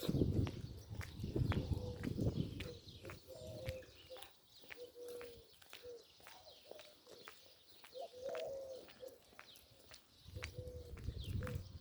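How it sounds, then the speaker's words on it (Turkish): Birds coo and chirp outdoors in a village countryside at moderate distance, with scattered sharp taps and footsteps and a quiet rustling background. "Sadece kuş sesleri duyuyoruz."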